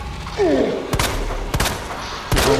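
Gunfire from the Resident Evil 2 video game on PS5: three spaced, punchy shots land close and loud over a low game rumble, with a brief whooshing effect before the first.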